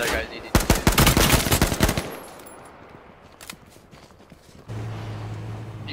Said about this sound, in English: Shooting a pistol.